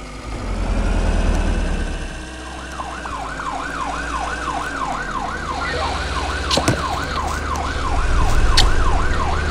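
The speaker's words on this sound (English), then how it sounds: "There's a fire engine!" A fire engine siren wails in a fast, regular up-and-down sweep, loud and close over a low engine rumble, starting a few seconds in and continuing to the end.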